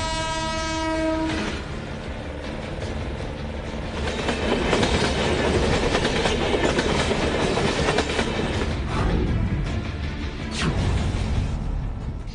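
A train runs on railway tracks in India, opening with a loud horn blast before the rolling rumble and rhythmic wheel clatter build up close and continue steadily, with occasional louder rattles.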